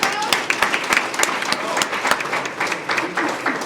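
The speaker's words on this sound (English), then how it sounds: "Can we give him a round of applause?" Audience applause fills a hall of fame ceremony at the University of Tampa, a steady, dense wash of many hands clapping close and loud for the full stretch, with sharper individual claps popping through.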